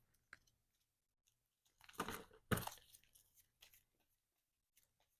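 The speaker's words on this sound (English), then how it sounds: "So let's shuffle up the encounter deck here." Cards from a Marvel Champions encounter deck are riffled and handled on a table, a few soft clicks followed by two brief, crisp bursts of fluttering card noise, then scattered faint taps.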